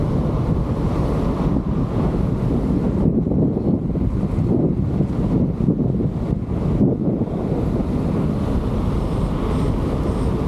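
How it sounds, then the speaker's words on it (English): Strong wind roars and buffets continuously, loud and steady throughout with no voices. "It's very windy today."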